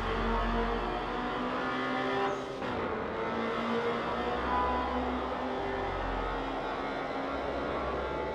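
Car engine droning steadily through a night street race on Japan's Wangan highway in the Night-Runners Prologue video game, a continuous loud hum with shifting pitch and a brief dip near the middle.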